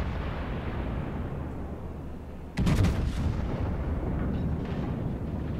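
Naval gunfire in World of Warships, with the Tirpitz and Bismarck in battle: a steady rumbling background breaks into a loud, sharp burst of cannon blasts midway, followed by sustained booming and crackling.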